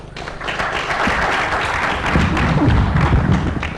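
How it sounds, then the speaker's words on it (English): An audience claps together at an award event after a panel talk on cause marketing, a dense and steady patter of hands that swells slightly toward the end, with no voices over it. "So, round of applause, guys."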